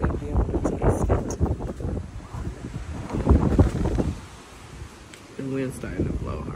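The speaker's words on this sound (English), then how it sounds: "The wind's starting to blow hard." Strong wind blows hard outdoors, a loud rushing roar buffeting the microphone in gusts that ease briefly before someone speaks near the end.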